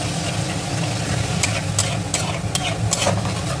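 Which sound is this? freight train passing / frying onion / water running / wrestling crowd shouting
frying onion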